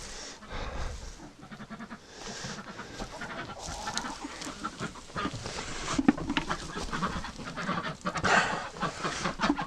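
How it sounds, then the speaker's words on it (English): Ducks calling inside a cold barn where Rouen ducks are bred, a busy overlapping mix of quacks and honking calls at varying distances, rising and falling in loudness throughout with no talk. "Oh, we got ducks coming in."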